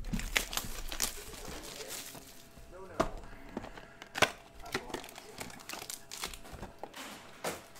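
Panini Spectra basketball card packs (2018-19) torn open by hand, with repeated sharp crinkling and ripping bursts of foil wrapper, close and fairly loud, over low background rumble and occasional voices.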